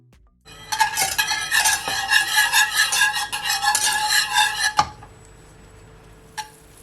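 Butter and honey bubbling in a pot on the stove while being stirred, a close clattering scrape and sizzle for several seconds, stopping abruptly, followed by near silence and one brief clink.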